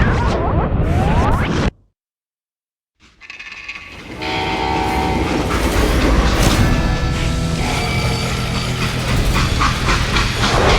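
Freight train in the Western video game Call of Juarez: Gunslinger, a loud rumble that cuts out into a second of silence, then returns as heavy rolling rail noise with a long, sustained horn blast and clanking.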